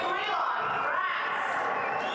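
Arena crowd after a men's under-84 kg karate kumite gold medal final at the World Combat Games, a broad sustained murmur and shouting of displeasure, with a commentator talking over it.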